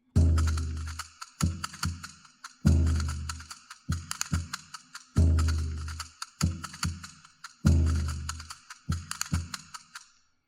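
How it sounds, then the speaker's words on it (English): A looping castanet pattern of sharp wooden clicks in quick repeated bursts, each phrase restarting about every two and a half seconds, close and crisp. "cool castanet"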